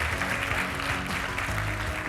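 An audience at a real estate event claps in a dense, steady round of applause that fills the whole moment at full volume.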